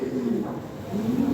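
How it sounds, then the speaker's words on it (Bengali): A pair of European-bloodline racing pigeons coo in low, soft, drawn-out phrases close by, with two rolling calls separated by a brief pause and a faint background murmur. "ভালো একজোড়া কবুতর"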